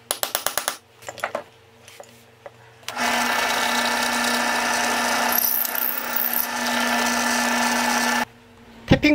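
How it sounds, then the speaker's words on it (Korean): A power drill whirs steadily for several seconds, drilling a hole into a walnut wood handle, after a few sharp clicks and knocks, then stops, followed by more tool clatter. "손잡이에 중앙을 표시하고 구멍을 뚫어줍니다."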